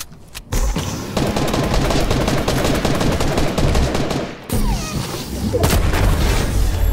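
Rapid gunfire from a video game trick shot, with dense bursts of automatic shots and booms, loud and close, dropping briefly before resuming.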